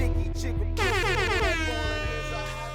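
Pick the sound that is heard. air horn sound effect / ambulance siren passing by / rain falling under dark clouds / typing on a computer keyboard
air horn sound effect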